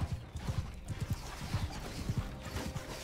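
Hooves clop in quick, uneven beats against a busy background din, like horses moving nearby, in the video game Bannerlord.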